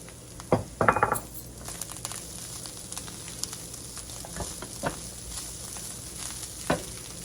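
A keema mixture fries in a pan with a soft continuous sizzle while a metal spoon stirs it. Sharp scraping clinks come near the start, then sparse light taps over the quiet frying.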